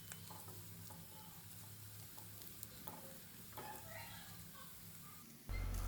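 Browned onions with turmeric sizzle steadily in a pan for chicken kurma, a continuous close hiss of frying with occasional stirring scrapes, ending in a brief louder low rumble.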